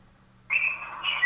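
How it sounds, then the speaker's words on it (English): Bright, high-pitched bird chirps come through a call line, starting abruptly and holding as a steady trill with a sharper burst near the end, over quiet background hum with no talking. "Somebody's got some pretty birds in the background."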